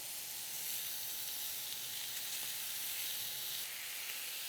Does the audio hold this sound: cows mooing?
no